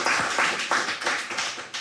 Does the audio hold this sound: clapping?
yes